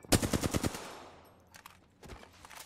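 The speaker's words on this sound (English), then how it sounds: "Shooting. Taking fire." Gunfire in the battle royale game Apex Legends: a quick burst of loud automatic shots up front, then fading echoes and a few fainter shots in the distance.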